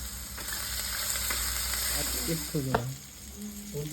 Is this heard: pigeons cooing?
no